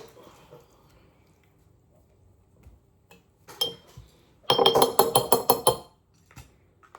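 A spoon clinks against a glass jar while homemade In-N-Out style sauce is made, giving a quick burst of bright, ringing taps near the end after a few isolated knocks, close and fairly loud.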